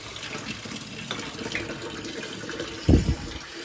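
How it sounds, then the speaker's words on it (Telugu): Hot water poured into a bowl in a home kitchen while making pasta, a steady watery rush with a brief louder splash near the end, close by and without talk. "ఇగో ఇట్లా గిన్నెలో వాటర్ పోసి ఇప్పుడు వేడి నీళ్ళు పోస్తా"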